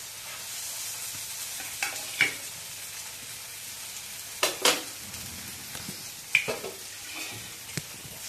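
Four fish pieces frying in oil in a pan, a soft steady sizzle with a few sharp spits and crackles at scattered moments, close but fairly quiet.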